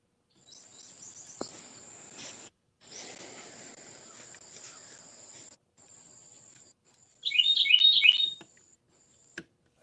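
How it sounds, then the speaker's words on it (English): A bird chirps outdoors, a brief burst of rapid high twittering close by, set against intermittent faint high insect-like buzzing and quiet stretches. "Oh, bird."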